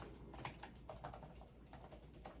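Quiet, steady typing on an Apple keyboard made for the iMac, with soft, rapid key clicks following one another evenly at close range.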